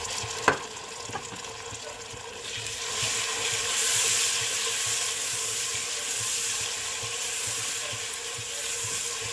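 Tomatoes and green chilies go into a pan with green bean mince and fry with a broad, steady hissing sizzle that grows louder after a single sharp clatter near the start.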